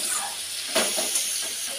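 Spiced masala sizzling and frying in a kadai over a home kitchen stove, with a sharper splash-like burst partway through as water goes in, heard close up without speech.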